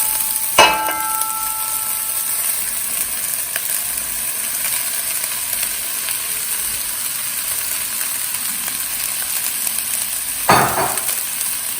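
Parboiled rice fries in a hot pan with a constant loud sizzle, broken by two sharp scraping clatters of stirring near the start and end.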